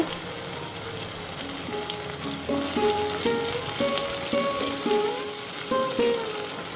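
Chicken paturi wrapped in bottle gourd leaves fries steadily in a pan over a low flame, a close, continuous sizzle with bubbling crackles, and no one speaks.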